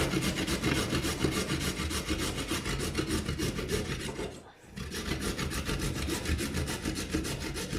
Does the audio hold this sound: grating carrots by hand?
yes